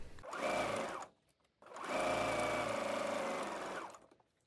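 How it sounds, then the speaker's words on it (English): A sewing machine stitching a kick pleat insert on a skirt, two bursts of steady rapid whirring: one about a second long, a short pause, then a longer run of roughly two seconds, heard up close and alone. "Sew to both sides of the center front extensions."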